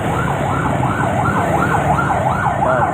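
Fire truck siren on a city street, a loud wailing tone rising and falling in rapid repeated cycles over the rumble of road traffic.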